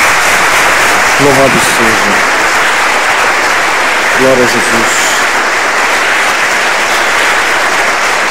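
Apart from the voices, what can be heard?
congregation applause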